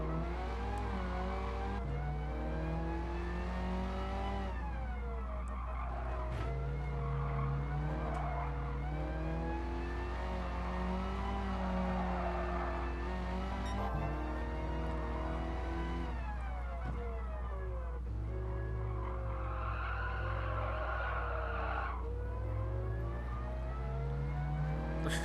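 Race car engines rev and accelerate continuously in Gran Turismo Sport during a lap of the Compétition De France, with shifting engine pitch and brief tire skids and squeals throughout, loud and steady.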